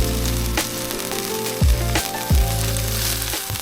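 A rib eye steak sizzles loudly and steadily on a Blackstone griddle with a dab of beef tallow on top, punctuated by a few sharp scraping or tapping knocks from a metal utensil.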